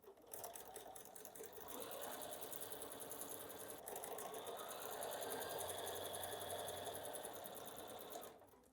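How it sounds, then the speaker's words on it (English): A sewing machine stitches quilt block fabric for a wall hanging. It gives a steady, rapid mechanical whir that runs for about eight seconds before stopping, close and even, with no voices. "All right, now I'm going to start sewing."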